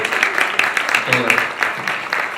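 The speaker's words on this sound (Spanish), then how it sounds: "demos un aplauso a nuestro invitado" Audience applause for a guest speaker at a talk, a short burst of brisk clapping with a voice speaking over it partway through.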